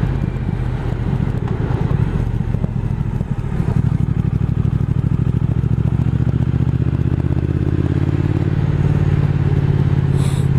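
A Triumph Speed Twin motorcycle climbs a snowy mountain road, its engine droning loud and steady with rising revs and road noise throughout.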